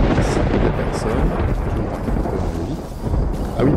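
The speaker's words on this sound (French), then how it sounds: "Et un orage." A thunderstorm in the video game Minecraft, a loud sustained rumbling roar of thunder with rain hiss that rises, dips briefly in the middle and swells again.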